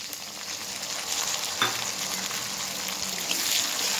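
Boiled chickpeas go into a pan where taro leaves are frying with garlic paste, giving a steady close sizzle and hiss with a brief clatter as they land and get stirred.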